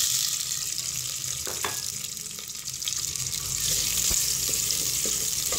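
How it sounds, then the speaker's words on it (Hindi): Chopped onions sizzle in hot cooking oil in a pan, a steady loud hiss with a few small pops and light clinks throughout. "कुकिंग ऑयल गरम हो गया, अब मैं इसके अंदर अनियन ऐड कर दूंगी।"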